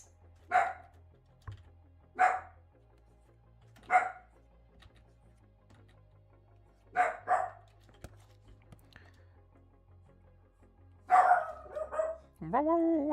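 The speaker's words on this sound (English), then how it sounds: "Sorry for the doggo noise." Close, loud dog barks come one at a time at irregular intervals of a second or two, then a quicker cluster near the end, with a voice speaking over the final bark.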